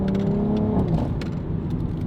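Cabin of a stock 2020 pre-LCI BMW X3M fitted with a Valvetronic Designs exhaust, engine note steady then dropping in pitch as a gear shift lands, a smooth shift without a sharp crack, heard from inside.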